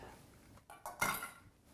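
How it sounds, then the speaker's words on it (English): A spoon or utensil scraping and clinking in a pot of chicken and spinach soup with pesto, a few soft stirring strokes building to a brief clatter, close and quiet, with no talking. "Let's stir all this in together."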